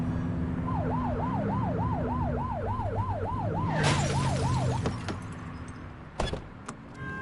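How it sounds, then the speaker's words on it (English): A police car siren from the video game The Precinct wails in a fast, regular up-and-down yelp over low traffic rumble, loud and close, then cuts off abruptly, leaving a few sharp clicks and thumps. "Get behind them and blip the siren to make them pull over."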